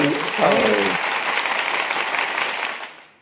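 A studio crowd breaks into loud, steady applause after brief talk, holding for about three seconds before quickly fading out, during a sports talk show's 499th episode.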